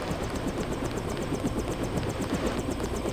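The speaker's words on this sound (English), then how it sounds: "There's this helicopter." A helicopter in the video game Deus Ex: its rotor chops steadily and loudly throughout, a fast rhythmic thumping with a constant engine whine.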